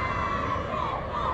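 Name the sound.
stadium crowd chanting for Nepal at a women's football match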